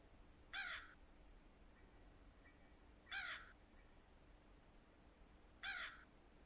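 A crow caws three times in the video game Granny, evenly spaced a few seconds apart, each a short raspy burst over a quiet, faintly hissing background.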